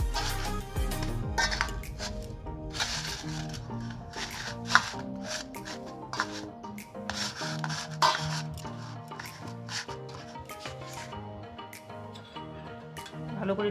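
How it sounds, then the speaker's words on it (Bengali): Palms knead soft fresh chhana on a plate for jaggery rosogolla, making a continuous close rubbing and squishing texture with light rhythmic pressing and an occasional faint tap. "এবার আমি হাতের তালু দিয়ে কিন্তু আলতো করে করে একটু খুব আলতো হাতে কিন্তু ছানাগুলোকে এভাবে মেখে নেব"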